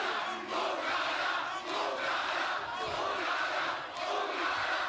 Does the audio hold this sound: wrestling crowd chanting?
yes